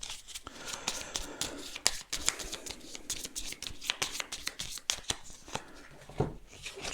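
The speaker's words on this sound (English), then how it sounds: "Need to shuffle the deck." A deck of cards is shuffled at a tabletop board game, a close, busy run of riffling and snapping card flicks that keeps going with no talk.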